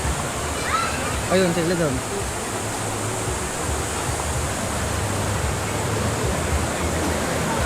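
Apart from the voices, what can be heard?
river water flowing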